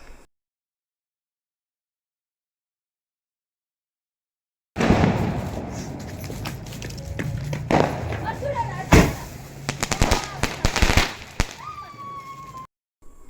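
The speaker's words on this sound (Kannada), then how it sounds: "ನಮ್ಮ ಅಜ್ಜಿ ಕೈಲಿ ಫಸ್ಟ್ ಟೈಮ್ ಪಟಾಕಿ ಹೊಡಿಸ್ತಾ ಇದ್ದೀವಿ ನಾವು" Diwali firecrackers burst at a home celebration, set off by a grandmother, after about five seconds of silence: several sharp, loud pops and cracks stand out over a busy outdoor din with voices talking.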